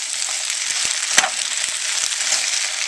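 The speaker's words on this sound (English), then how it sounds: "While the potatoes are frying," Potatoes sizzle steadily in a hot, buttered pan with a constant crackling hiss and an occasional sharper pop. No one speaks.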